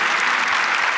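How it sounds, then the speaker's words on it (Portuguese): An audience at a priest's talk claps together, a thick unbroken wash of applause that holds steady throughout. "Levanta a mão, uma salva de palmas."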